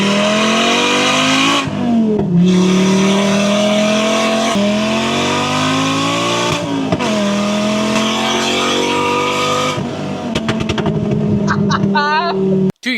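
A loud race car engine screams up through high revs in repeated 7,500 RPM launches, pitch climbing then dropping with each shift, ending in a burst of crackling pops.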